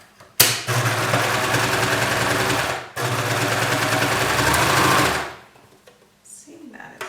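A serger sewing machine stitches a scrap of sweater knit in two loud, continuous bursts of rapid mechanical whirring. The bursts are broken by a brief pause and end with a sudden stop, followed by faint handling noises.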